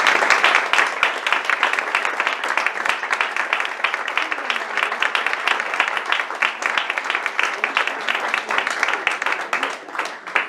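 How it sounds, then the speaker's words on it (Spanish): Sustained audience applause for painter Carlos Dors at a poetry book presentation, dense steady clapping from a seated crowd lasting throughout, fairly loud and even with no pause. "Pido un fuerte aplauso para Carlos Dors."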